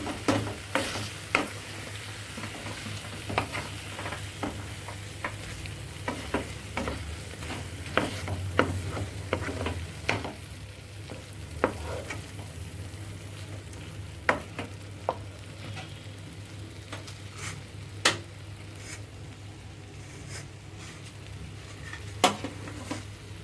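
Cashew paste and fenugreek leaves stirred into chicken cooking in a pan, with a spoon knocking and scraping against the metal again and again over a soft, constant sizzle, close and unhurried, with no voices.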